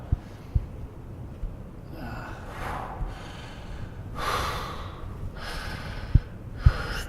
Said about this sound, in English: Try to keep the breathing going nice and deep and full while we're doing this.